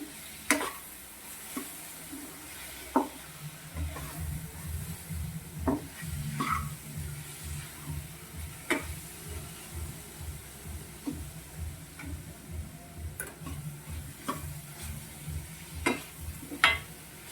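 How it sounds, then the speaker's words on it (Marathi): Modak filling with ground cashews stirred in a hot pan: a soft continuous sizzle with a steady low rhythmic scraping from the stirring, broken by occasional sharp metal taps, close and moderately quiet. "आणखी 1-2 मिनिट आपण हे मिश्रण चांगलं मिक्स करून घेऊ"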